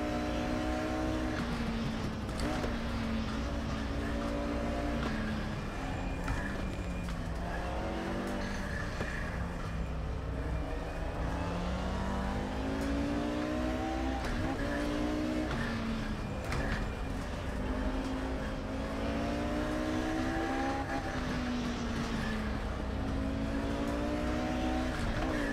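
Race car engine in the Race Room Racing sim game, droning loudly and continuously with pitch rising and falling through gear changes and corners, a voice occasionally faint underneath.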